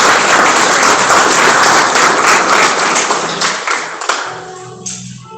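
A church congregation claps loudly and steadily for several seconds during a worship service, the dense applause thinning toward the end as a few last claps and a sharp tap sound out.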